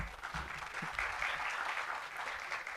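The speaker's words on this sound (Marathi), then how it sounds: "टाळ्या" An audience claps steadily through the whole stretch at a Marathi book-launch event in Mumbai, a dense, even patter of many hands at moderate loudness with no voices over it.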